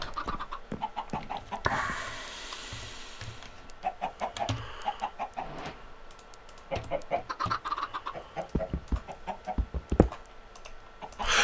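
Chickens in a video game cluck and squawk in short bursts over a busy mix of clicks and game noise, with someone speaking German now and then.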